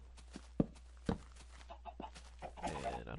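Chicken in a Minecraft-style video game clucking faintly, a few soft scattered clucks with small clicks between them.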